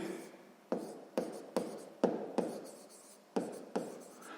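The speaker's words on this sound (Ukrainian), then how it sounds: "Запишемо тоді так, оскільки." A pen writes numbers on paper in a sixth-grade maths exercise, heard as a series of short, quiet scratching strokes with irregular pauses between them, close and alone.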